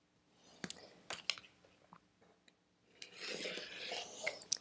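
A blade trims quilt borders on a cutting board, giving a few sharp clicks and then a longer, soft rasping cut toward the end, close and fairly quiet.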